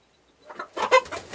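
Chickens in a coop, a short burst of close clucking that rises out of near silence and lasts about a second.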